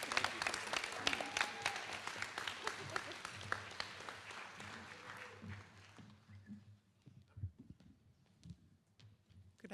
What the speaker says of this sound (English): please clap for Blazer